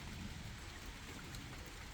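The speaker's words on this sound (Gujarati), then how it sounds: "વરસાદ જો કેટલો બધો આવે છે" Quiet, continuous rain hiss in the distance, a soft even wash of falling water with no talking.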